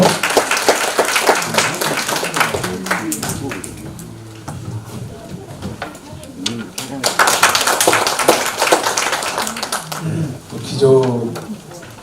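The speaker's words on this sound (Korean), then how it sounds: "박수로 맞이해 주시기 바랍니다" Audience at a 2018 Honam regional international tourism conference applauds a keynote speaker being welcomed to the stage, a dense patter of clapping running throughout, with a voice speaking over it in places.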